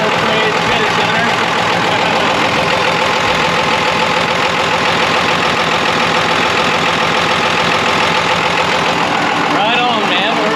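A Ford diesel truck engine, newly repaired and back to oil pressure, runs loud and steady at close range for the whole stretch, with a dense rumbling idle and faint voices in the background.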